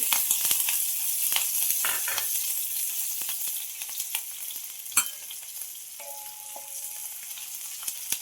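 Cumin seeds and garlic fry in hot oil with a steady, close crackling sizzle and a few sharper pops and spoon scrapes, with no talking.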